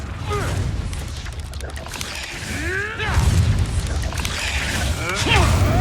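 Spell explosions from the wizarding video game Hogwarts Legacy, Confringo blasts fired at a Rookwood enemy: repeated booming bursts and crashing impacts over a rumbling mechanical bed, with spoken voices and whooshing magic sweeps throughout.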